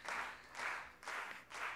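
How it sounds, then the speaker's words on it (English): Soft, distant audience clapping swells and fades in broad waves at a women's 10m pistol shooting final, a muffled crowd patter rising and dipping roughly every half second. "the audience starts clapping"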